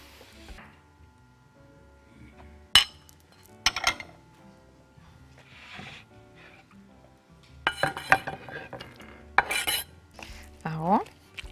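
Boiled eggs cut with a knife for potato salad, with scattered clinks and taps of metal cutlery against dishes and a bowl, irregular and close, with quiet gaps between bursts.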